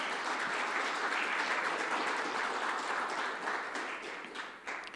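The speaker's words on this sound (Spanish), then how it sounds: "Démosle un aplauso al Señor" A church congregation claps steadily in sustained applause, a dense even patter that fades slightly at the end.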